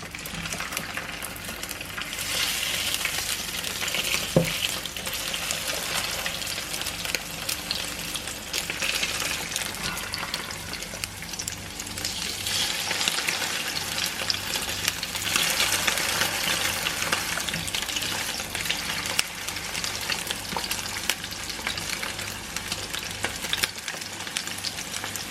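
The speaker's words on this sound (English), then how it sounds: "we'll start adding the brill, and we'll pan fry the brill" Brill fillets pan frying give a steady, broadband sizzle that runs the whole time at a moderate level, with a single brief clink near the start and no talking.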